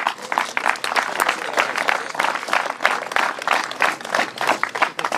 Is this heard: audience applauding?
yes